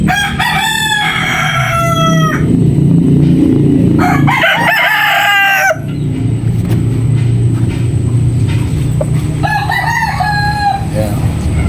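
A straight-comb gamefowl rooster crows loudly and close several times, its cock-a-doodle-doo calls standing out over a steady low rumble of background noise.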